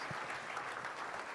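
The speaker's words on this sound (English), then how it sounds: "Let's give them a round of applause." Audience applause at a European awards ceremony, steady and moderately distant broadband clapping that holds evenly through the brief moment with no voices on top.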